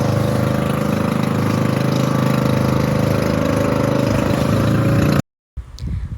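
A boat's motor engine drones loud and continuous, then cuts out abruptly near the end before a rougher rumble resumes, at Anawangin Cove, Zambales.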